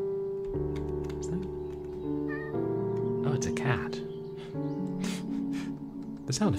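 A cat meowing as a sound effect in a short horror audio drama, with a long drawn-out meow over sustained droning music and other effects.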